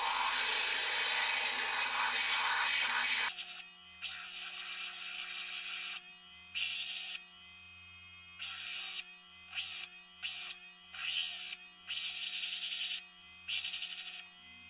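A flat lap grinds the husk off an agate nodule, a loud harsh whir at first, then broken into repeated grinding bursts over a steady motor hum as the stone is pressed on and lifted.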